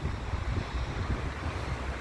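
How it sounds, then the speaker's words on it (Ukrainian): Steady cool wind rushes and buffets the microphone outdoors in the Netherlands, a continuous low roar with no other distinct sounds. "Бачите, вітер такий прохолодний, йдуть дощі"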